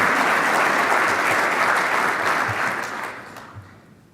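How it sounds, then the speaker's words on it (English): Audience at a Boston College CEO speaker series event applauds warmly, a dense, steady wash of clapping that holds strong for about three seconds before tapering off toward the end. "So I'd like to give him a warm round of applause for the work he does."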